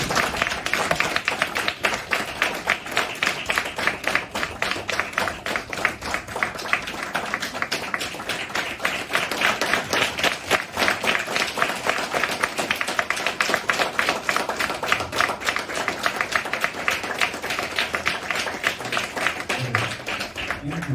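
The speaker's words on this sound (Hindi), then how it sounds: "एक बार जोरदार अपने आप के लिए जोरदार तालियां हो जाए" A seminar audience gives steady, dense applause that runs on at an even level for the full stretch, with no talking over it.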